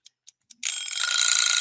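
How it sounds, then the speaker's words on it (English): A Pomodoro timer ticks three times, then rings with a loud, continuous metallic bell that carries on to the end, alone with no talking. "when that timer rings"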